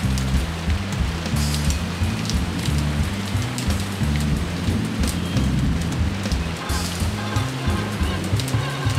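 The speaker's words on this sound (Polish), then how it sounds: "Mokrą, bowiem deszcz padał i padał." Steady, heavy rainfall in the video game Reksio i Wehikuł Czasu hisses continuously throughout, with low rumbling tones beneath suggesting distant thunder or game music; no voices.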